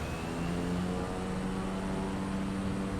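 Steady, loud drone of a Cessna 208B Grand Caravan's single turboprop engine in a flight simulator, a continuous even hum with a low tonal buzz and no talk.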